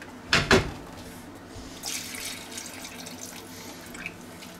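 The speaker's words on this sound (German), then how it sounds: "da lasse ich noch Wasser durch einen Filter durchlaufen" Water runs through a filter while a Western-style one-pot stew is cooked on a grill, heard as a gushing tap-like flow with splashing and trickling, preceded by a couple of sharp clunks.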